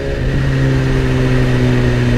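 A BMW S1000RR sport motorcycle engine revs hard and accelerates, a loud, steady, high-pitched drone held close for the whole stretch with no talk.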